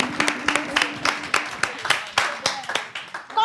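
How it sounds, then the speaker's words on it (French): A small group of people claps, loose, uneven individual handclaps rather than a dense roar, close by and fairly brisk, with faint voices murmuring underneath. "Applaudissons pour nous d'abord."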